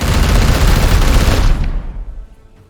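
A Forge Titan opens fire in the Warhammer 40k: Chaos Gate Daemonhunters video game, a loud dense barrage for about a second and a half that cuts off and trails into a fading rumble.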